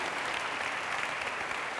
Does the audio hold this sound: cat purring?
no